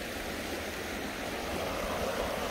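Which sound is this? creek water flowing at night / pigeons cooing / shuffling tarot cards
creek water flowing at night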